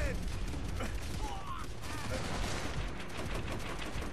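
Dense, continuous gunfire rattles through a Call of Duty: World at War battle against Japanese forces with tanks nearby, a steady wall of rapid shots and clatter at constant loudness with a faint voice underneath.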